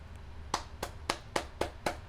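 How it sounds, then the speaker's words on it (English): A few sharp hand claps in an even rhythm, six crisp slaps about a quarter second apart, close and fairly quiet over a low background hum, with no talking. "I have to applaud it."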